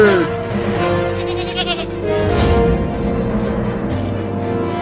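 A young goat bleats several times in a cartoon, wavering cries close by over a busy background of voices and traffic noise.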